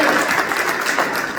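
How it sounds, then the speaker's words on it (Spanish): A church congregation applauds during a sermon, a short dense burst of crowd clapping filling the whole moment with no speech. "¿Me pueden dar un aplauso al Señor?"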